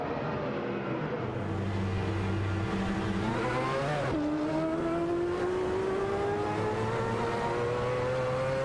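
Mazda 787B and Mercedes-Benz race cars in a racing video game, engines droning loudly and steadily, their whining pitch climbing as the cars accelerate, with a brief shift partway through.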